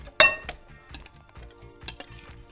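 A spoon stirs gelatin into cottage cheese in a bowl, giving a handful of light, scattered clinks and scrapes against the dish. It is fairly quiet and close, with no voices.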